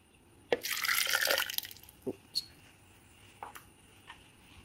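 Tamarind water splashes into a blender holding chili paste ingredients in one short, bright pour, followed by a few scattered drips and small knocks in a quiet room.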